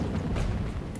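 Cannon fire in the Call of Warhammer game, a deep, heavy booming rumble lasting about a second, loud and close.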